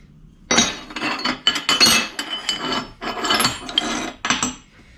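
Laser-cut steel pieces for a rally car knuckle clink and scrape against each other as they are handled and sorted, a run of close, sharp metallic clatters and rubs in irregular bursts with short pauses.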